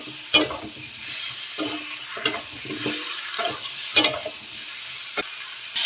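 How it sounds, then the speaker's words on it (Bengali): Spice masala with chilli powder and salt is sautéed in a pan for a fish curry, with a sizzling fry broken by repeated brisk scrapes and knocks of the spatula against the pan. "নুন দিয়ে দেবো পরিমাণ মতো, দিয়ে ভালো করে আবার কষিয়ে নেব।"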